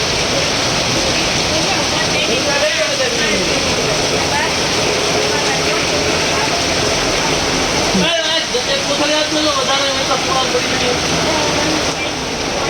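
Heavy rain pours down steadily during a downpour, with running water rushing loudly throughout, while a voice talks over the constant hiss and splash.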